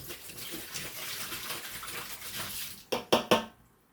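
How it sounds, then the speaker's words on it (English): Liquid poured from a Gatorade bottle down a drain, a gurgling, splashing stream lasting a few seconds that ends in three quick, louder glugs before falling quiet. "So down the drain it goes."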